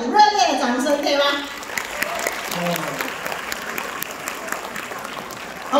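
An audience at a business opportunity sharing event applauds, broadband clapping that carries on steadily after a presenter's voice opens the clip over a public address system.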